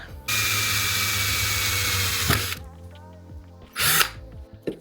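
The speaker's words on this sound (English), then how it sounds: "so I drilled my hole" Power drill boring a hole in a ski pole: a loud, steady whine for about two seconds, then a pause with small handling clicks and a shorter second burst, close by with no talking.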